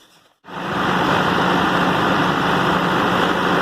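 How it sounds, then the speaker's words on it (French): A generator engine kicks in after a forced start, bursting from near silence into a loud, steady, broadband running roar that continues unbroken to the end. "Là, on vient de passer au démarrage du moteur forcé"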